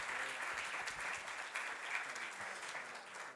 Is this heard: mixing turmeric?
no